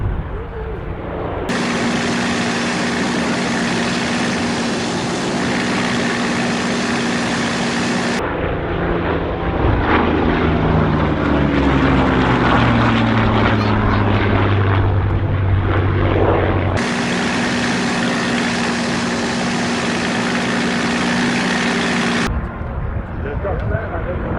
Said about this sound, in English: it's the engine sound that people like as much as anything. Corsair and the Spitfire.